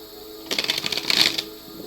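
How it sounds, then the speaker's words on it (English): Tarot cards riffled and shuffled by hand during a divination reading, a short close burst of crisp flicking and rustling that swells and fades over about a second. "Oh, that wasn't a very good shuffle."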